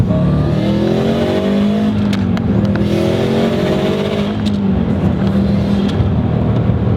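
A tuned, turbocharged 2005 Subaru STI accelerates hard onto a highway, its loud engine note climbing steadily through the gears from inside the car, with no speech.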